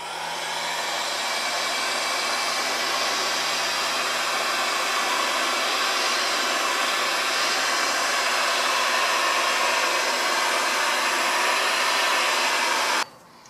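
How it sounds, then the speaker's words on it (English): A heat gun blows hot air over freshly painted 1911 pistol parts, a loud, steady whooshing roar held close for about thirteen seconds before it suddenly cuts off. "I'm gonna take the heat gun, heat this thing up, so they'll dry really quick"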